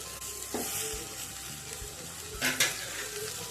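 Tomatoes sautéing in oil for puli kuzhambu, a low steady sizzle with a few spoon scrapes and light pan knocks, close but quiet.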